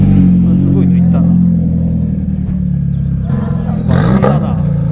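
Loud car engine at the Enjoy Itasha Festival at Suzuka Twin Circuit, likely a lowered Lexus RC F or IS, with a deep, steady low drone that swells near the end while people talk over it.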